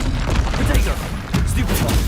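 Incendio fire spell cast in Hogwarts Legacy, a dense burst of booming, crackling impacts and whooshes, loud and busy over its whole length, with a voice talking over it.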